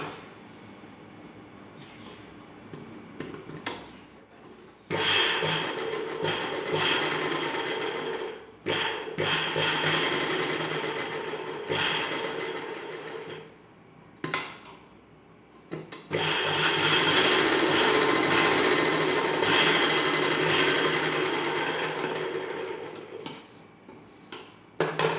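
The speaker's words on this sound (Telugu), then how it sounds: "కట్ చేసి ఉంచుకున్న బకరం పీస్ని లైనింగ్ పీస్ మీద పెట్టి కుట్టడం స్టార్ట్ చేసుకోవాలి." A sewing machine runs in bursts while stitching a buckram piece onto a lining piece for an umbrella-cut dress, with a rapid mechanical chatter that repeatedly starts and stops.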